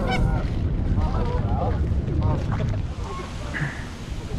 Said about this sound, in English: Here's some Canadian geese.